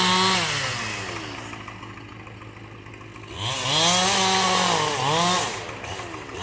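A chainsaw cutting timber during a logging job above a meadow, close and loud, with the engine whining up and down in pitch as it revs and bites into the wood.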